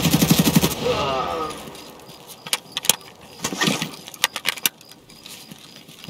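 Gunfire in Escape from Tarkov: a rapid automatic burst up front, then scattered sharp single shots and short bursts, some near and loud, others more distant.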